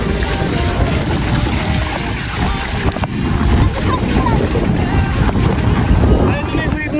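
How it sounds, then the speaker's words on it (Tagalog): Steady rushing surf and wind roar fill a beach at Talaan, Sariaya continuously, with ocean waves washing in nearby and faint voices mixed underneath. "Ayun, may wave na, oh."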